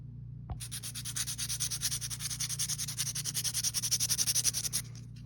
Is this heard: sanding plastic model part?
yes